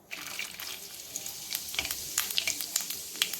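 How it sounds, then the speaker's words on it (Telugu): Spices crackling as they are tempered in hot oil left over from frying fish, a steady faint sizzle with scattered sharp pops growing busier over a few seconds. "ఇప్పుడైతే పచ్చడి చేసుకుందాం. చేప ముక్కలు వేసుకున్న ఆయిల్ని"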